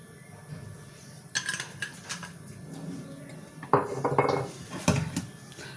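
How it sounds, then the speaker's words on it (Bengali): A wok is set onto a gas stove for frying, with a few metallic clanks and scrapes of cookware against the burner, moderately close and intermittent, no voices. "চলুন গ্যাসে কড়াটা বসিয়ে দিই।"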